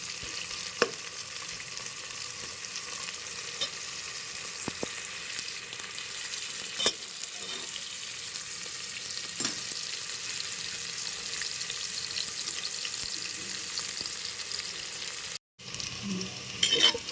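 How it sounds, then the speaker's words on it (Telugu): Onions frying in oil for naatu kodi pulusu, a constant soft crackling sizzle with occasional clinks of stirring, briefly cutting out near the end before resuming. "ఉల్లిపాయలు బాగా దోరగా వేగినాయండి"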